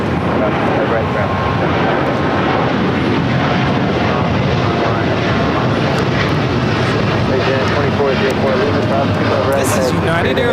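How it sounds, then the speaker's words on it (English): A United Airlines Boeing 787-9 Dreamliner takes off at LAX, its engines producing a loud, continuous broadband roar that holds steady throughout, with voices talking over it. "This is United Airlines 1704 taking off to Newark on the 787-9 Dreamliner."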